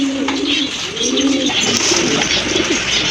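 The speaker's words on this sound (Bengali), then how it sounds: "মাশাআল্লাহ অনেক সুন্দর একটা ঝর্ণার শাটিন কবুতর, খুবই চমৎকার কোয়ালিটি" A fountain-tailed satin pigeon coos in repeated low, rolling phrases, loud and close, with faint chirps and background noise behind it.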